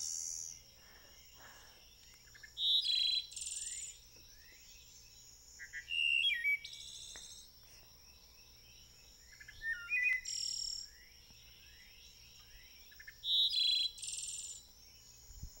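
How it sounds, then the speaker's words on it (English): A wood thrush sings clear, fluting phrases in four separate bursts a few seconds apart, each ending in a higher trill, over a faint steady background hum. "That's the song of the wood thrush"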